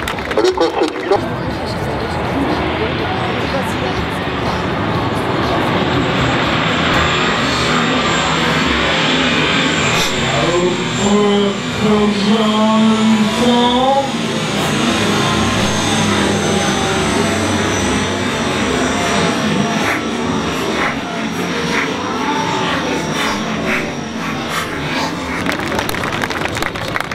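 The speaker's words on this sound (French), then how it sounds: "Le Milan se présente maintenant devant vous pour son premier largage." A Milan firefighting aircraft flies past at an open-day display to make a water drop, its engines giving a loud, continuous roar under a public-address announcer's voice.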